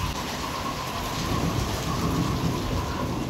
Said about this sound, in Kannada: ಆಚೆ ಕಡೆ ಅಂತೂ ಫುಲ್ ಮಳೆ ಬೀಳ್ತಾ ಇದೆ, ಫುಲ್ ಮಿಂಚು, ಥಂಡರ್ಸು, ರೈನು